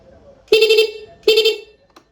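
Horn of a Honda Grand motorcycle being tested after rewiring, two short, loud electric honks about a second apart in a quiet setting, with a faint click just after.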